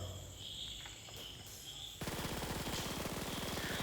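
Rapid automatic gunfire in the mobile shooter BGMI during a recoil test, starting abruptly after a quiet ambient lead-in and continuing as a dense, fast, even burst of shots close up.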